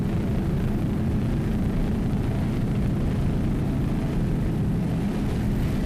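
A 36-foot Formula racing powerboat with Mercury 500 horsepower inboard engines roars steadily and loudly at speed during a factory-class race, a constant heavy engine drone with no voices.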